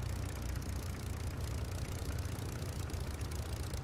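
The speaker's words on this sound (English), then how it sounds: "And here comes Nick in his Fusion Pink airplane there" A light aircraft in a flight simulator, the Fusion Pink plane, drones with a steady, dense, low engine rumble that holds constant throughout, with no voices.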